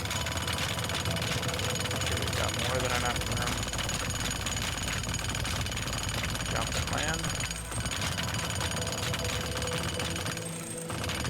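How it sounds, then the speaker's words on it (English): A jackhammer in the physics demolition game Teardown pounds in a continuous rapid rattle for most of the stretch, loud and close, while someone talks over it. "Jackhammer."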